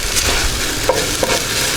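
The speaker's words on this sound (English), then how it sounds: "we're just going to fry these onions" Onions frying in a pan give a loud, steady close-up sizzle with a couple of brief crackles and stirring scrapes, and no voices.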